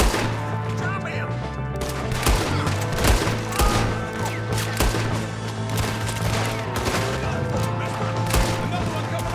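Gunfire in the Red Dead Redemption II video game, with repeated shots and bursts crackling over a steady music bed and game sounds, some shooters nearby and others farther off.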